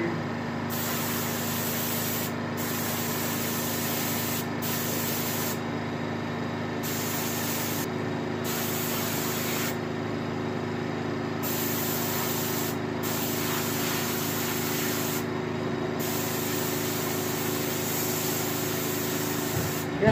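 Paint sprayer or airbrush hissing steadily while a turkey head is painted for taxidermy, with a continuous close spray broken by brief pauses between passes, no talking.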